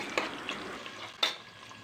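Onions and green chillies hiss and sizzle in a hot pan, with a couple of brief stirring scrapes over a steady frying noise.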